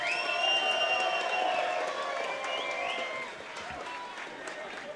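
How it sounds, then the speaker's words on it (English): Crowd at a K1 kickboxing fight night breaks into sustained applause and cheering, dense clapping that is loud at first and tapers slightly, with an announcer's voice carrying over it. "Let's have a round of applause."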